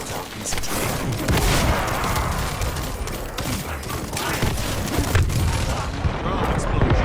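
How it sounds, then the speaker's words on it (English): Drone blowing up in the sci-fi shooter The First Descendant, a loud, dense roar of blasts and gunfire running without a break through the whole stretch, with a voice talking faintly underneath. "Drone explosion."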